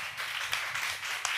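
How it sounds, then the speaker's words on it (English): Steady applause from a tech accelerator demo day audience, many hands clapping in a dense, continuous patter with a few sharper claps standing out. "round of applause"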